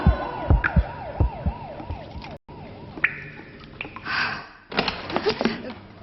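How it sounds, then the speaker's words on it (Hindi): A wailing siren sweeps up and down repeatedly, loud and close, then cuts out briefly before other sharp noises and clattering sounds follow. "इससे पहले कि एक सायरन से भी आपको डर लगने लगे"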